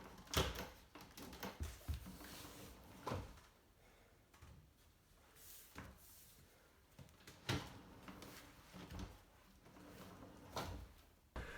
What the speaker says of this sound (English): slip the drawers in, tweaking them as needed on the Movento runners